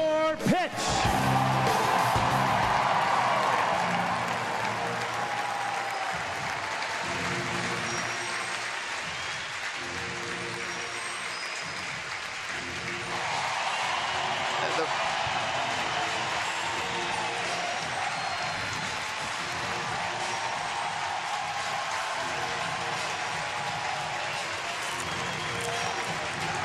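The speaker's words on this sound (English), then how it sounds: "Crowd has cheered every moment from the time that David first came out for batting practice today" Baseball stadium crowd at a Mets game applauding and cheering during a ceremonial first pitch, a loud sustained roar with clapping that peaks early and then holds steady, with a public-address voice speaking over it.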